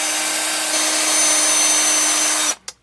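A rotary tool whirs steadily while polishing out holes in a replacement Tamiya Falcon RC car front suspension part, a continuous close buzzing whine that cuts off abruptly near the end with a brief trailing burst.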